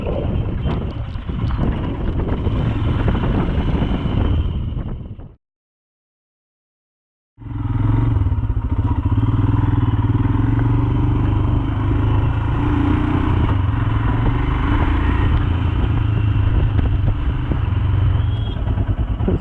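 A Royal Enfield Himalayan motorcycle rides along the road near Malshej with heavy wind buffeting the microphone, steady and loud. The sound drops out completely for about two seconds, then the engine and wind roar resume.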